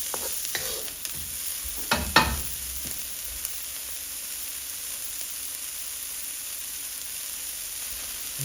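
Shallots and vegetables stir-fry in a very hot wok, a steady close sizzle with a couple of sharp scraping stirs near the start before the frying settles into an even hiss.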